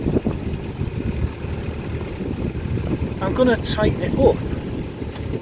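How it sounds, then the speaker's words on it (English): Wind buffeting a microphone aboard a canal boat, with a steady rumbling gust noise throughout and a person speaking briefly partway through. "it's a bit blowy today"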